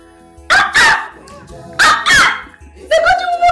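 A dog barks loudly and close by in three bursts, each a pair of sharp barks, with quiet gaps between them and no talking.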